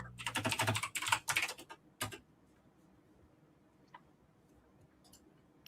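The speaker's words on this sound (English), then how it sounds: "I was typing over in a different chat room" Rapid bursts of keyboard typing, close and fairly loud, stopping after a couple of seconds into near silence with a few faint ticks.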